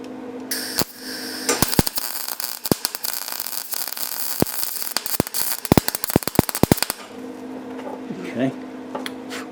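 Welder laying beads on sheet metal of a Ford F100 tailgate, a loud, close crackling sputter with sharp popping bursts for several seconds, then stopping, leaving faint background noise.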